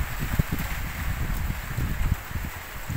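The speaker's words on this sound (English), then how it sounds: "windy." Gusty wind during a hail storm buffeting the microphone with low rumbling thumps, steady and close, with no voices.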